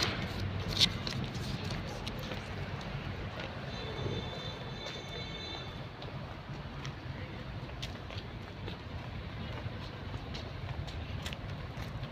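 A steady rumble of a passenger train running from Nandyal to Dhone, continuous and fairly close, with faint voices and scattered clicks over it.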